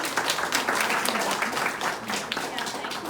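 Audience at an art exhibition gathering giving a round of applause, a dense wash of clapping from many hands, steady and moderately near, with some voices mixed in.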